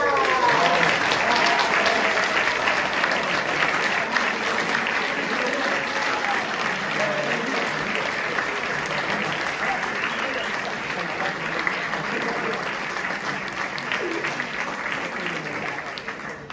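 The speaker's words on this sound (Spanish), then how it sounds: "¡Arriba esos aplausos para Judith y Flavia!" A theatre audience gives sustained applause after a stage performance, a dense steady wash of clapping that runs on and slowly thins toward the end, with voices calling out over it.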